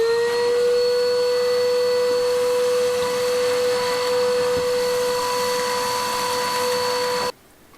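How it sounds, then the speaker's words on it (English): A vacuum cleaner running on an outdoor patio, a steady loud motor whine with a strong tonal hum that holds for about seven seconds, then cuts off abruptly to quiet. "Does anyone else vacuum the patio?"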